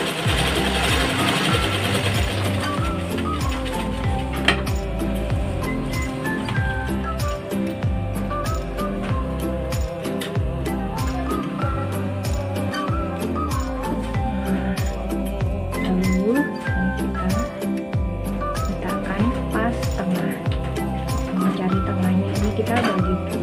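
A sewing machine runs steadily, stitching the raw edge of apron fabric to keep its threads from fraying, with a continuous mechanical rattle that holds at a constant level throughout.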